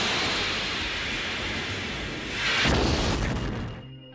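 In DCS World, an AIM-9 Sidewinder missile launches from a Phantom, a loud roaring whoosh that swells briefly then fades away, over a constant jet engine drone, with no voices.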